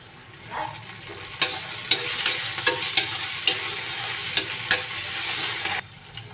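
Chopped green chillies land in a pan of golden fried onions, sizzling steadily with repeated scraping stirs.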